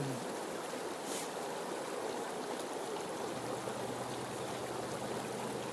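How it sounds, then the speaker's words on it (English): Water sloshes and swirls steadily in a shallow pan, a continuous gentle wash with a faint low hum underneath. "Put a little more water in there, and yeah, kind of tip it as you're shaking it"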